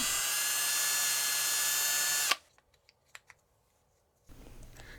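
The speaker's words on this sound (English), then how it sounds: "First, clean out the screw holes from any glue." A small power drill whirs steadily, clearing glue out of screw holes on a Hangar 9 20cc Brave model airplane, then stops, followed by a few light clicks and a faint background hum.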